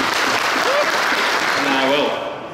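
Crowd applause at a fishing lure competition event welcomes a team to the stage, steady clapping under a loud voice, fading toward the end.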